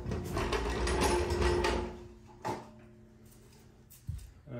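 Car jack lowering a vehicle back onto all four wheels during a tire rotation in a garage: a couple of seconds of mechanical grinding and ratcheting, then quiet with a few short clunks and knocks.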